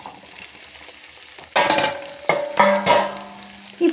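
Bitter gourd pieces tossed into a pan of softened onions and fried, a low quiet simmer giving way to sudden loud sizzling bursts with stirring scrapes, close up.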